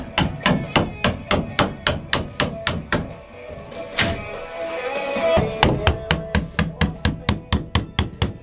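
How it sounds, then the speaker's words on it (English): Rapid, loud metallic hammer blows drive a chisel into old studs inside a van, in two rhythmic bursts of repeated strikes separated by a short scraping pause. "I still have to chisel away at all this shit because it didn't come off in one piece"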